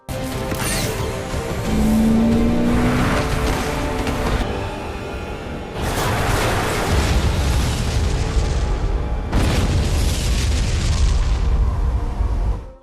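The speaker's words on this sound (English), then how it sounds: "He launches a truck with explosives into the last tornado and saves the day." Movie explosions as a truck loaded with explosives blows up inside a tornado: loud booming blasts and crashing bursts in three big waves, with a rumbling roar and debris between them.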